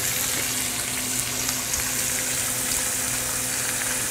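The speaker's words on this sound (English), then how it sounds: "directly into the pan, placing the fillet away from us so that there isn't any splatter of oil" A skate wing fillet fries in hot oil in a pan, giving off a continuous, even sizzle with faint crackles and no voices.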